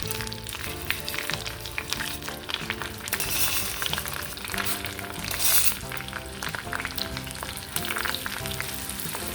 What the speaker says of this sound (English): And I'll just get those onions sauteing in that pan.